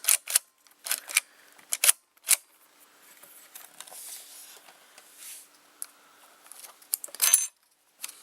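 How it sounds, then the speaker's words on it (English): Gears inside a Hitachi VT-2500A VHS camcorder mechanism loading the tape guides, heard as close, small plastic clicks and ticks in irregular bursts with quiet whirring between them. "those teeth are driving these two gears for the tape guides. See, right now they are loading"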